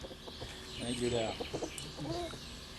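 Chickens cluck and call in a short run of rising, chattering notes, close by, over a soft background hiss.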